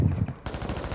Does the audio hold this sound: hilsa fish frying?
no